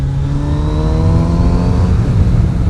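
A Kawasaki Z900RS motorcycle engine and exhaust hum at a loud, steady idle with a deep, even rumble, recorded close from behind with no talk.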